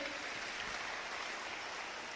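Audience applause fills the room as a dense, steady wash of clapping, continuous and fairly even throughout with no distinct voices.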